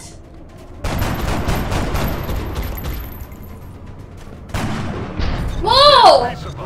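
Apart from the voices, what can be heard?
explosion hitting the squad in the XCOM video game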